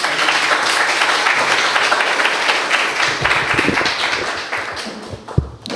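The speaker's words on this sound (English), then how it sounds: "So big applause for Prashant." Audience at a stock market talk applauding, a dense wash of many hands clapping at close range that thins out toward the end, with a few stray louder claps.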